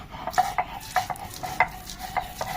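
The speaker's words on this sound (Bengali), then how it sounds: "এই সুন্দর করে পাটায় পিষতে হবে আগে এই মাছটি" Whole tengra fish being ground on a stone slab (pata) to make fishing bait: a series of short, scraping strokes repeat at an uneven rhythm, close and moderately loud, with no talking.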